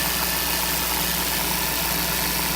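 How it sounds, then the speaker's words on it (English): The engine of a 1991 Fleetwood Southwind motorhome idles smoothly at close range, a steady, even rumble with no talk over it. "The engine's running smooth, which is always a good sign."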